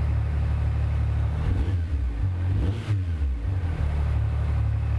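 A Yamaha YXZ1000R side-by-side's engine drones loudly and steadily, with a brief rise and dip in pitch midway as the throttle is worked, heard from on board.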